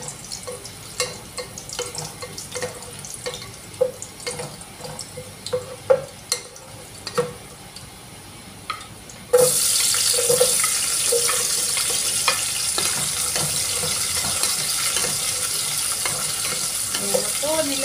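Onion hits a hot pan for sautéing in a Filipino-style chicken and pechay dish: after scattered utensil clinks and light stirring, a loud, steady sizzle suddenly starts and continues evenly, close by.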